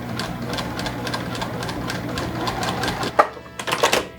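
Quarter-inch seams being sewn on quilt half-square triangles: a sewing machine hums with a steady rapid stitching chatter for about three seconds, then stops amid close handling clicks and rustles.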